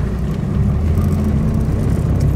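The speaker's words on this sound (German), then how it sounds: "Ich schalte jetzt mal zurück." A restored 1938 Lagonda LG6 drop head coupé with a synchronised four-speed gearbox, its engine running with a steady, close low rumble and hum while downshifting.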